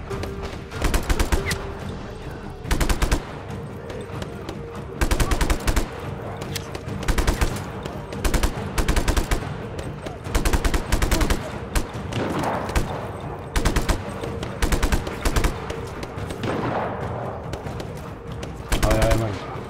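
Bursts of gunfire in Just Cause 3 crackle in repeated volleys, loud and close, with short pauses between the rattling strings of shots.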